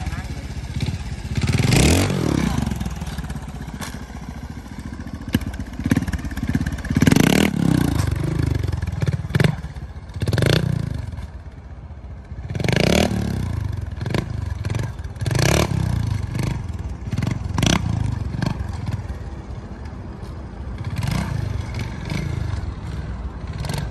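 A Honda HRC race motorcycle rides a test section at the Honda factory, its engine repeatedly revving and surging with clattering bursts. It sounds close and loud, and people talk over much of it.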